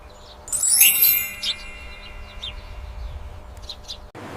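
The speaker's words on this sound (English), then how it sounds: "It's a sparrow." A sparrow gives a burst of bright, high chirps and tweets close by, followed by a few sparse, fainter calls over a low background hum.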